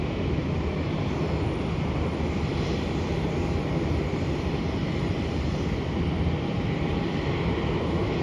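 A passenger jet on arrival at Melbourne airport after an international flight from Guangzhou, heard as a steady broadband engine roar with wind, fairly loud and continuous, with no talk.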